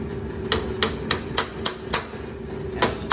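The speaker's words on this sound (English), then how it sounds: "And this hammer is made out of Durlon." A Durlon hammer flattens a metal ring with about eight sharp, ringing strikes, mostly evenly spaced with a short pause before the last two, close and clear over a quiet background.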